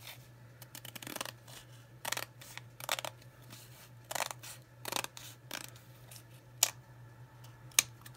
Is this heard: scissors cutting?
yes